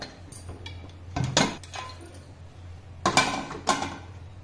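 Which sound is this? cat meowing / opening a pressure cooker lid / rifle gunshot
opening a pressure cooker lid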